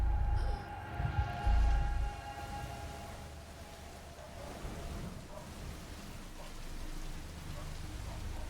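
Steady rain hisses throughout a scene in a Prohibition-era murder mystery game demo, with a brief low rumble near the start and the downpour continuing evenly.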